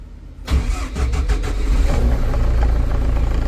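A car engine cranks briefly and catches, then settles into a steady, rumbling idle, close by and fairly loud, with no voices.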